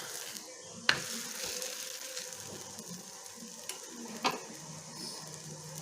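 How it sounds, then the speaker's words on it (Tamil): A wheat parotta cooks on a hot tava with a faint, quiet sizzle, broken by a couple of sharp clinks or taps from turning it. "உடனே நம்ம திரட்டி வச்சுருக்க பரோட்டாவை போட்டுடலாம்"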